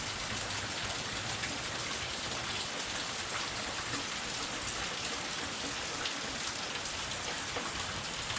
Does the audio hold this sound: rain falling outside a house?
yes